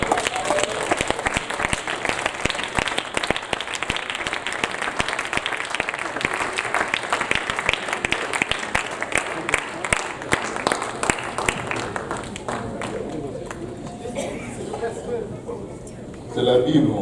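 A church congregation applauding, a dense sustained roar of clapping with shouting voices mixed in, easing off near the end.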